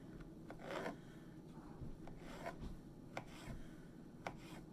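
A knife slices through a peeled avocado for cauliflower tacos, giving soft, quiet scraping strokes with a few faint clicks of the blade on the board, close and low in level with no talk.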